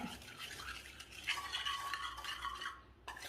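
Chili, fenugreek and asafoetida powders being stirred into oil for an old-style mango pickle: soft, close, quiet scraping swishes that repeat steadily, pausing briefly near the end.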